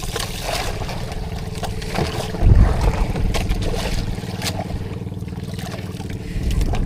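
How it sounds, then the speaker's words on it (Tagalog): A misfiring boat engine chugs unevenly close by at sea, its low rumble sputtering with a brief heavy thump midway, under wind and water noise. "Palyado ang makina."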